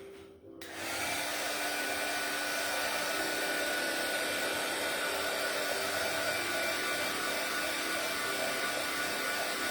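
A hair dryer switches on after a brief quiet start and blows steadily and loudly over handmade Christmas craft pieces, a constant broadband whoosh holding at one level to the end.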